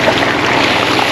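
Irrigation water pumped from an engine-driven pump in a hut rushes steadily in a vegetable field of eggplants, a loud, dense, continuous flow with no pauses.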